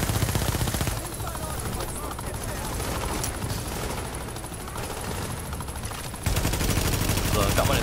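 Sustained gunfire from Tom Clancy's The Division during a co-op firefight, a steady rattle of shots running the whole time with a brief lull and a louder burst near the end, with players talking over it.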